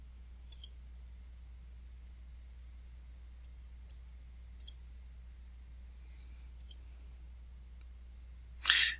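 A computer mouse clicks while spreadsheet cells are selected: about eight crisp, close clicks, some in quick pairs, spaced irregularly over a quiet low hum, ending with a short rustle.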